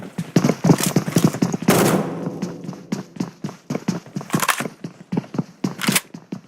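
Video game gunfire in a competitive match: rapid bursts of sharp shots with short pauses between them, close and loud, with a longer noisy blast near the middle and no talk.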